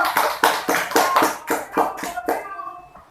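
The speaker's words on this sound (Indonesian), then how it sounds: "Aplaus untuk kita semua Bu" A group of women claps together at a training session, a burst of hand claps with distinct rhythmic peaks that thins out and fades toward the end.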